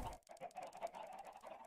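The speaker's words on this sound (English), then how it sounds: "I think that's where I keep my chickens." Chickens in the video game Minecraft, a short run of quiet clucks and murmuring calls close by, faint and without speech.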